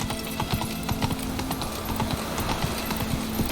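Horse hooves galloping in The Witcher 3: Wild Hunt, a rapid rhythmic clip-clop of hoofbeats running steadily throughout, with game ambience underneath.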